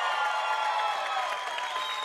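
A studio audience applauds as a weekday co-host is introduced, a steady, dense patter of clapping that holds evenly for about two seconds.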